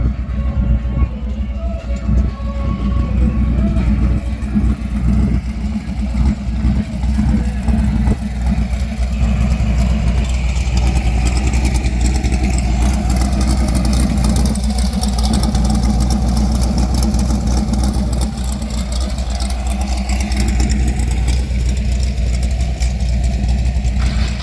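Several car engines idling together at the Glamis sand dunes in California, a dense continuous low rumble that stays loud and steady, with faint movement and shifting tones over it.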